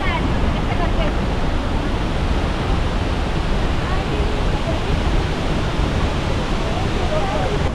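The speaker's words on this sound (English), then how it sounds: "We have finally arrived at stage 2 of Fifi waterfall." Phe Phe Falls in Meghalaya roars with a steady, dense rush of falling water, loud and constant throughout with no breaks.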